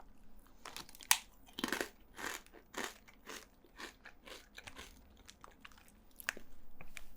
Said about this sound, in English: I just don't crunch right in your ear